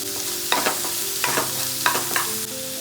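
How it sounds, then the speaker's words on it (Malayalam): Onion, green chili and garlic being sautéed in a pan for a vegetable kulambu: a steady close sizzle with several sharp scraping stirs of a spoon against the pan, no voices. "കട്ട് ചെയ്ത് വെച്ചിരിക്കുന്ന സവാള, പച്ചമുളക്, അതുപോലെ വെളുത്തുള്ളി ഇതെല്ലാം കൂടി ഇട്ട് ഒന്നുകൂടി നല്ലതുപോലെ ഒന്ന് വഴറ്റിയെടുക്കുക"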